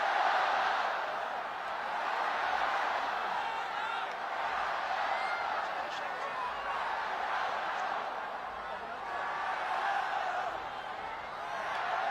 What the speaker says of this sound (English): the crowd building up into a fever pitch of excitement now